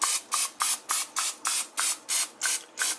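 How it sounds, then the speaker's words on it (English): Rapid bursts of cooking oil spray onto a pan, about ten short hissing pulses in a steady rhythm, close and fairly loud with no talking. "First we're going to spray pan with some granola oil."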